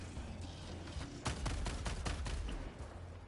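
Rapid gunfire fills a Helldivers 2 co-op shooter match, with dense overlapping shots and a steady run of loud cracks over a constant rumbling battle background.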